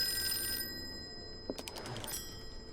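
An old telephone rings in the Call of Cthulhu video game, a bright bell ring that stops, followed by a few soft clicks and knocks in a quiet room.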